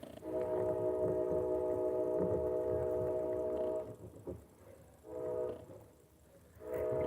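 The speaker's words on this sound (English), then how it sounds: "Y'all hear that train?" A train passes nearby, its horn sounding in a steady multi-tone blast for several seconds, then fading and returning in shorter bursts over low rumbling.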